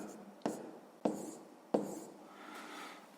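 A hand writes down an answer on paper: three distinct tapping strokes spaced about half a second apart, each trailing into a soft scratch, followed by light rubbing, all faint and close.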